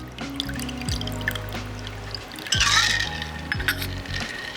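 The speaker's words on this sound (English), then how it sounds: "we're just gonna pour very cold" A cold gin and grapefruit cocktail is poured into a glass over large ice, giving a trickling pour with soft clinks of ice, close and quiet, with no talking.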